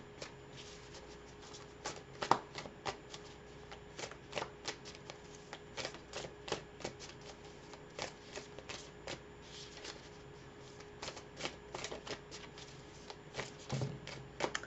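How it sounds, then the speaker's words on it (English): Tarot cards being shuffled by hand, a long run of quick papery riffles and flicks in uneven bursts, close and fairly quiet, with no talking. "So let's pull some cards"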